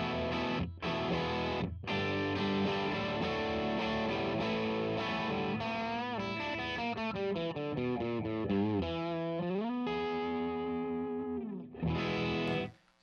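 An electric guitar plays chords and sliding riffs through a Fulltone Mas Malo overdrive pedal set at noon, a light, gritty overdrive, loud and close, with brief pauses between phrases.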